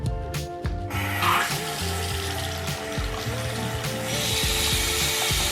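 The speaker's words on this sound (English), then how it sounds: "when you run the water" Water runs from a leaky bathroom sink faucet in a steady, continuous stream, with a low tonal hum and a few clunks mixed in.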